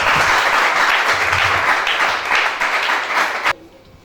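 A crowd claps and applauds in praise of Jesus, a dense burst of clapping that carries on steadily before cutting off abruptly.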